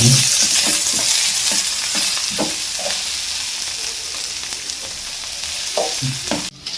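Vegetables sautéing in a hot pan with Maggi seasoning, salt and Ajinomoto, a loud continuous sizzle with repeated scraping stirs of a spatula, close and without talk.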